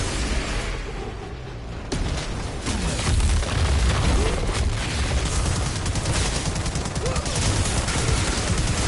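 A legendary gun fires in the Outriders shooter video game, a dense stream of rapid shots with booming impacts, loud and sustained across the whole stretch.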